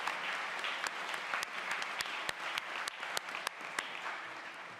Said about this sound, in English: I'd like to do a round of applause for them